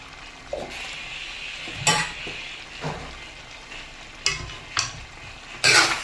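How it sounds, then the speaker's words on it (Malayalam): Beef fry with pepper and garam masala stirred in a pan, a steady frying sizzle with several loud, close scrapes and knocks of the spoon against the pan. "ഇളക്കി നന്നായിട്ട് നമുക്ക് യോജിപ്പിക്കാം"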